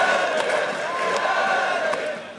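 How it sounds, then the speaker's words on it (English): An esports arena crowd cheers and roars continuously in a dense, loud wash during a deciding Game 5 League of Legends-style match between Fnatic and Origin, with no individual voices standing out. "Looks like the crowd wants Fnatic Gen to win."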